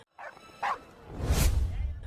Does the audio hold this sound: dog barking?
yes